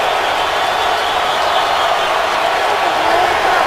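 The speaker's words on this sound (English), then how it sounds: "Crowd is fired up." Stadium crowd at an NFL game between the Bengals and Colts, a steady loud roar of cheering throughout with no breaks.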